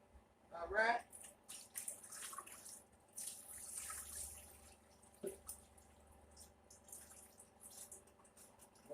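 Water runs and splashes in a kitchen sink during cleaning with bleach and dish detergent, faint and irregular with drips and spatters, under a person talking.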